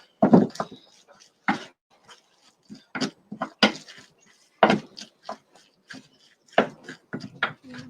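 A spoon scraping and knocking through bread pudding ingredients in a bowl in a medieval-style kitchen, irregular wet clacks and scrapes in short clusters, close and fairly crisp against a quiet background.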